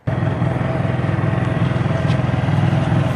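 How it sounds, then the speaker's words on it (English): A Honda 3000is portable generator catches and runs with a steady, close, loud pulsing engine drone, beginning abruptly right after a brief quiet moment and continuing evenly without speech. "I'll move this generator around and start her up"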